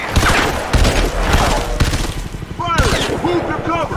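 Rapid machine gun bursts from a night stealth mission in Crysis 3, loud and close, with a dense rattling volley running throughout and shouted voices cutting in over the gunfire.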